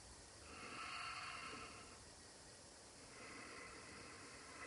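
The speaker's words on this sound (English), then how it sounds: "maybe hearing that gentle hissing sound as you breathe" Soft, steady ujjayi yoga breathing with a gentle airy hiss on each breath, two slow passes rising and falling, close and quiet with no talking.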